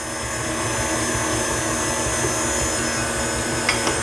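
A stand mixer whirs steadily as it blends eggs and vanilla into cupcake batter, a constant loud motor drone with a couple of faint clicks near the end.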